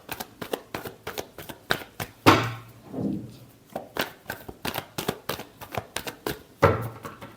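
Tarot cards being shuffled by hand in a quick series of crisp riffling bursts and soft slaps, close and fairly loud, with a couple of longer cascading shuffles.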